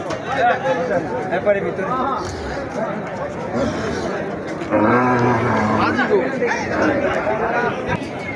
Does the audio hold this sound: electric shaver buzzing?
no